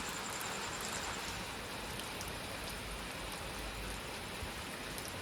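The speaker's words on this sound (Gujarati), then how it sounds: "વરસાદ છે ને ધીમો ધીમો ચાલુ છે 1 કલાકથી" Gentle rain falls late at night over a village, a soft continuous hiss of drops with faint scattered taps, steady and even throughout with no voices.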